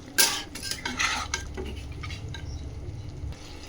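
Mutton is stirred with spices in a pot, with sharp metal spoon scrapes and clanks against the pot at first, then a quieter rasp and low sizzle.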